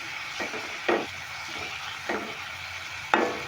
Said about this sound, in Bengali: এবার হলুদ আর নুনটা দিয়েও আমি একটু মেরে নেবো ভালো করে মিশিয়ে নিচ্ছি